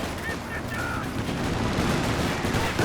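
Grenades burst amid a Company of Heroes 2 commando ambush in a 2v2 match, a dense, continuous barrage of crackling gunfire and explosions that stays loud and chaotic throughout.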